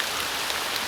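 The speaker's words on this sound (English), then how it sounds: "It is heavy rain and it's getting through" Heavy autumn rain falls through a forest canopy as a dense, even hiss of countless drops, steady and close throughout the short moment.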